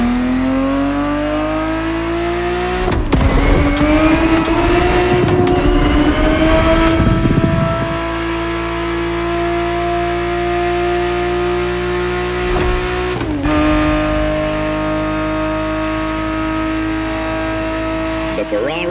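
A Ferrari 365 GTB4 from the 1970s races in The Crew Motorfest, its engine howling steadily and rising in pitch through the gears, with a gear-change surge near the start and another midway while a voice narrates over it.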